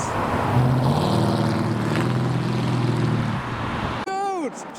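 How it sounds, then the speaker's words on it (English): A genuine Mark 4 Toyota Supra, towing a small trailer, drives past at a car show with a rising, then fading engine drone, followed by a sharp pitch-swept sound at the end, while people talk excitedly nearby. "Genuine Mark 4 Supra doing a drive-by."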